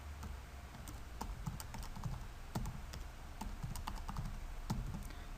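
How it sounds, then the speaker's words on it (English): Password being typed on a computer keyboard, a quiet, steady run of light key clicks at an uneven typing rhythm over low background hum. "Type in a password and click install"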